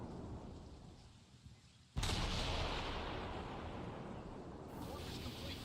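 Video-game artillery strike: a sudden heavy boom cuts in after quiet rumble, then a long roaring, rain-like rumble rolls on, with a second brighter surge near the end.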